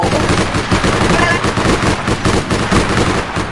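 Continuous loud automatic gunfire in the online game APB, a steady rattling stream of shots close up, with the sound of a driving vehicle and shouting voices mixed in.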